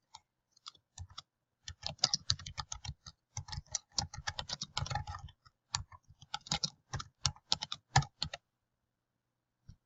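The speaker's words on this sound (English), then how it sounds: "So here it appears, and I can type my caption here." Quiet, close computer-keyboard typing: irregular bursts of light key clicks with short pauses between words as a text caption is entered.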